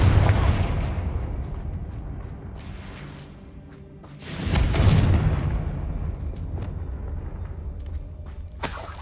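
A Confringo fire-blast spell in Hogwarts Legacy: a loud booming explosion at the start, a second heavy blast around four seconds that rumbles and fades, and another sharp burst at the end.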